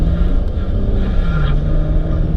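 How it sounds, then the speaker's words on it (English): Automatic BMW 335i E90 with an Alpina B3 transmission flash tune, accelerating at one-third throttle, heard as a loud steady engine drone and rumble from inside the car, with the pitch slowly shifting. "I'm gonna give it that 1/3 throttle again and see how it behaves"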